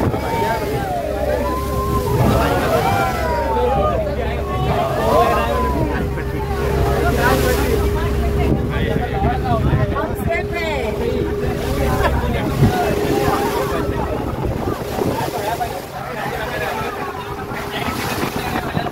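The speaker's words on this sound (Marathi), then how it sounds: "घरी परतताना समुद्राच्या लाटा खूप उसळी मारून उडत होत्या" Sea waves surging and splashing during a boat trip to Elephanta Caves off Mumbai, a steady loud wash of water and wind with a low engine hum beneath, with people talking in the background throughout.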